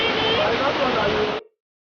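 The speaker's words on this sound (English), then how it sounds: "I'm going to the perfect spot to sit in this waterfall" Water rushes steadily from a waterfall in Abuja, Nigeria, a loud close splashing roar that cuts off abruptly after about a second and a half.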